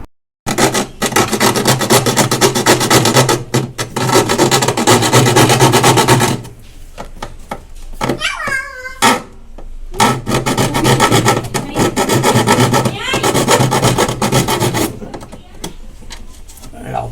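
The coil of a refrigerator door shelf frame is being cut by hand with loud, steady rasping strokes up close, broken by a short pause with some voices before the cutting resumes.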